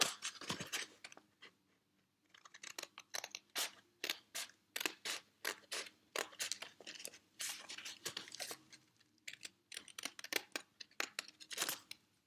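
Scissors cut through folded paper in quick, crisp snips, close and quiet, coming in irregular runs with brief pauses between them.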